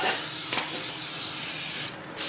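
A steady, close hiss of an aerosol lanolin spray held for about two seconds, with a brief louder puff partway through, then stopping abruptly, during front wheel bearing and U-joint work on a Dodge Ram 2500/3500.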